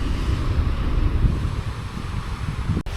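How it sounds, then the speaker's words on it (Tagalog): Strong, steady wind on a beach on Camotes Island, Cebu, roars across the microphone with a low rumbling buffet, continuous for the whole stretch, dipping briefly near the end. "Hindi ko alam kung naririnig nyo kasi malakas yung hangin."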